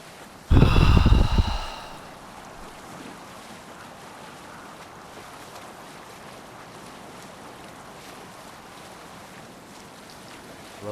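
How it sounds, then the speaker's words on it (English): A Viking boat cuts through ocean waves in Assassin's Creed Valhalla, opening with a loud, close splash and surge that fades into a steady wash of water and wind for the rest of the scene. "Love watching the way the boat interacts with the waves."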